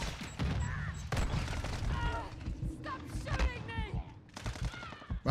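Loud, busy Modern Warfare 2 / Warzone 2 gunfire with repeated booming shots and bursts, mixed with in-game tones and voices talking over the fight.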